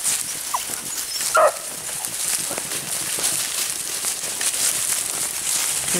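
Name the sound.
beagle dogs barking and whimpering during rabbit hunt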